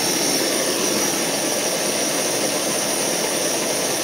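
Optimus Polaris camping stove burning, a loud continuous roaring hiss from the flame, steady and close with no pauses or voices.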